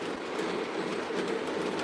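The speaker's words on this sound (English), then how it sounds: "this is just some of the other trains I have going on here" Lionel and MTH model trains run on track in a room full of rolling stock, a steady close rumble and rattle of wheels with faint clicking throughout, no talk.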